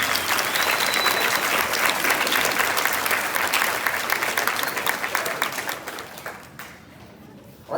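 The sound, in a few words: round of applause for Krimmel and the students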